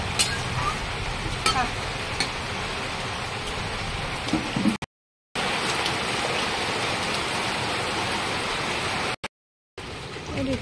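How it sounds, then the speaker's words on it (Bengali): Water pours steadily into a pan of taro and egg curry with a continuous close splashing rush, broken twice by short silent gaps. "তার সঙ্গে আমি এখন জল দিয়ে দেবো একদম, একটু লাগবে।"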